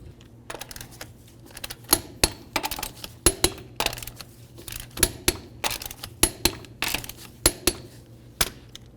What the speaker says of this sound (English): get the wheel on the ground, and then torque them to 80 foot-pounds